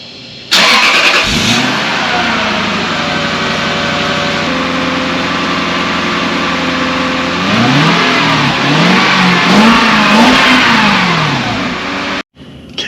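A car engine with its stock muffler and catalytic converter starts and idles, then revs from around 2,000 up to 4,000–5,000 RPM in several rising and falling pulls, loud and close.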